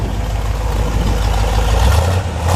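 The V8 engine of a 1973 Chevrolet Corvette, a 350, idles steadily with a deep, throbbing rumble, loud and close, with no talking.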